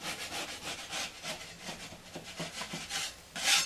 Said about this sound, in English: if you got something kind of higher, you can scrape it off that way